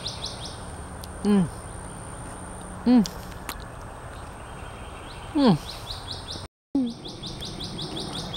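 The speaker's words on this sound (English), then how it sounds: "The bird." A bird calls outdoors in a few separate, short descending chirps spaced a second or two apart, fairly close and clear above a steady insect-like hiss, with one brief dropout.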